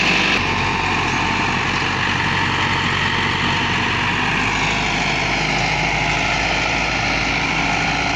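A 385 tractor engine drones steadily while pulling a plank leveller across a field being prepared for mustard sowing, a loud, constant low rumble close by with no pauses.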